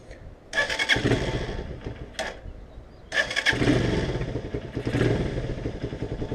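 A Romet K 125 motorcycle engine with a raised carburetor needle and a sport air filter revs loudly and close in two long bursts separated by a brief blip, with no talking.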